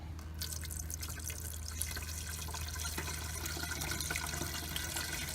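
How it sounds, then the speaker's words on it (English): Windshield washer fluid is poured from a jug into the reservoir of a 2017 Ford Fusion SE, a soft steady trickle and gurgle over a low hum, quiet and continuous. "So you just open it up and you pour it in there."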